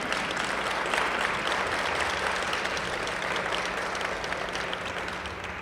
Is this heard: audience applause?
yes